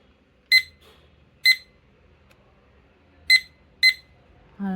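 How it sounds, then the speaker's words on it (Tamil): A study timer app's alarm rings in four short bright beeps, two spaced close together after a longer gap, clear and alone against a quiet room. "ஐயோ, நம்ம அலாரம்"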